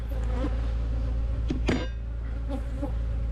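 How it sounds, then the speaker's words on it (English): Honeybees buzz in a dense, continuous drone around a nuc hive, close and steady, with a few individual bees flying past louder for a moment. "So you can see lots and lots of bees on that roof."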